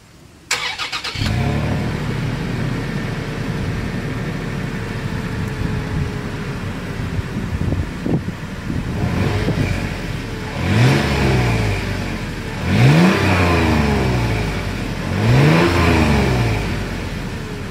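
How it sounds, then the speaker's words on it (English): A 2020 Toyota 4Runner's exhaust is heard starting up and idling close by, then revved in three distinct rising-and-falling blips spaced a couple of seconds apart, loud and with no talking. "As always, here is that exhaust clip."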